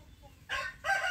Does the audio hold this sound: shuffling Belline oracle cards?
no